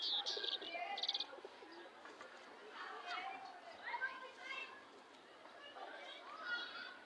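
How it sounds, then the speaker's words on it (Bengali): Pigeons in a pigeon house give soft coos and brief chirps, heard close but faintly beneath steady conversation. "আরো এক কবুতর আছে দেখা যাচ্ছে আপনাদের"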